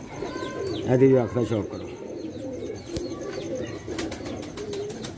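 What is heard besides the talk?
pigeons cooing, pearl-spotted pigeon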